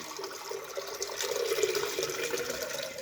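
Distilled water, about 500 ml, is poured into the feed tank of a membrane filtration setup, a steady soft splashing rush, close and continuous for a few seconds.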